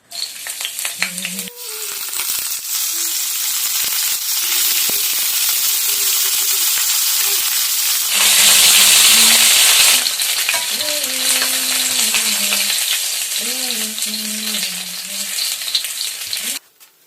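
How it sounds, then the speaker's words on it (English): Loud, continuous sizzling of fish frying in hot oil, with a burst of stronger crackling midway and a voice talking intermittently underneath. "I'm going to wait for the oil to hot, then I will start frying the fish."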